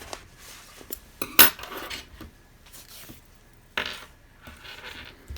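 Scissors cut a crochet yarn end on a granny square, making a few sharp, close metallic clicks and snips with brief rustles between them and quiet gaps.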